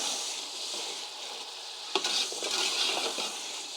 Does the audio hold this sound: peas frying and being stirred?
yes